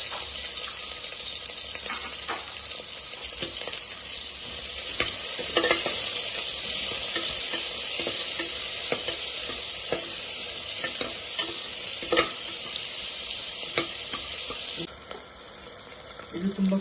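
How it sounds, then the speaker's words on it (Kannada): Chopped medium onion frying in hot oil for tomato bath, a loud dense hiss with repeated stirring scrapes, easing to a quieter, thinner sizzle near the end. "ಎಣ್ಣೆ ಕಾದಿದೆ. ಈಗ ಮೀಡಿಯಂ ಸೈಜ್ 1 ಈರುಳ್ಳಿ ಇಟ್ಟು"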